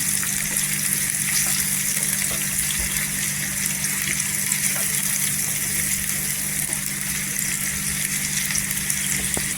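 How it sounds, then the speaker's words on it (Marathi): Two or three onions frying in oil until golden, a steady loud sizzle and hiss that runs unbroken throughout, with a low hum underneath. "इथे कांदा टाकायचा दोन ते तीन कांदा आहेत ते टाकायचा कांदा पूर्णपणे तेलावर गोल्डन करून घ्यायचा"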